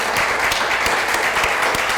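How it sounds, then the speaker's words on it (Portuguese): Church congregation clapping together in praise, loud continuous applause with a few sharp individual claps standing out near the listener. "Dá uma salva de palmas a esse Cristo maravilhoso."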